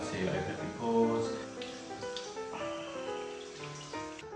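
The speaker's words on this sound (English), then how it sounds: "I'm going to rinse my face off with some warm water." Warm water running from a tap as a face is rinsed, a steady close splashing and trickling stream that fills the whole stretch, with no one speaking.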